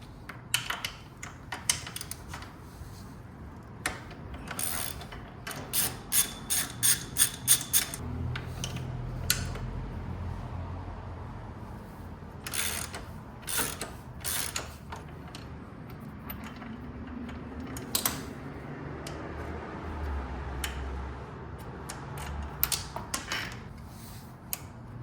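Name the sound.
ratchet loosening 14mm bolts on Kawasaki Eliminator 500 crash bars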